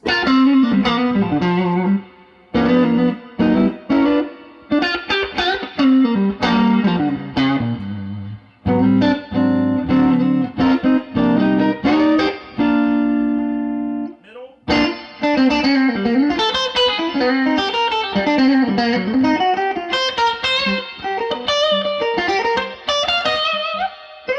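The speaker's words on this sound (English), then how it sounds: "let's give it a listen on the neck pickup, 66 Fender Bandmaster" Overdriven electric guitar on the neck pickup through a 1966 Fender Bandmaster tube amplifier and an MXR Echoplex Delay pedal, played as chords and runs with some reverb. The playing breaks off briefly midway, then continues.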